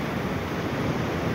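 Strong ocean waves at a shoreline fishing spot, a constant broad wash of surf with wind mixed in, steady and fairly soft.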